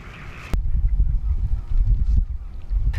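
A flock of migratory shorebirds on the Saemangeum tidal flats calls in loud, overlapping honking bursts against a low rumbling background, with no voices.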